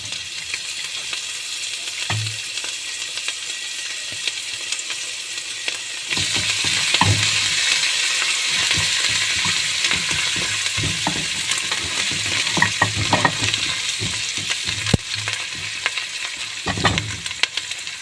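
Garlic frying in a pan for a meatless kofta, a steady sizzle that jumps louder partway through, with scattered stirring scrapes and clinks close by and no talking.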